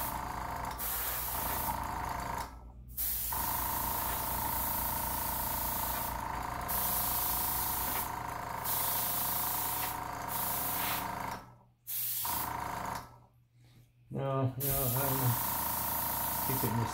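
An airbrush sprays paint in a continuous hiss while flame designs are laid down, with brief breaks where the air cuts out and then resumes, close and steady.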